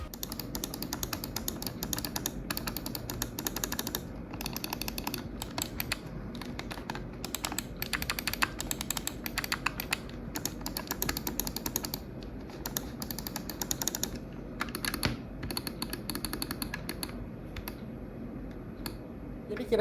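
Rapid, steady clicking and tapping close up from a Rexus X18 Xierra gaming mouse, a continuous run of light mechanical clicks with a low background hum underneath.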